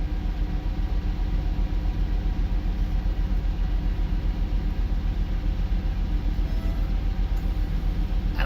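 An eastbound freight or passenger train rolls past at steady speed, a continuous broad rumble and rail noise holding an even level throughout, fairly distant and with no voices.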